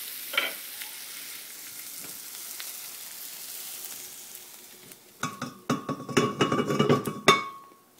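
Cooked vegetables stirred in a pan for chicken pâté: a quiet sizzle at first, then loud, close scraping and clinking of the utensil against the pan for the last few seconds.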